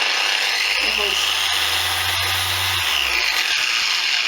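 A cheap Guild dual-action car polisher runs at high speed, giving a loud, steady whirring hum with a faint low drone and a few brief knocks, while someone talks over it.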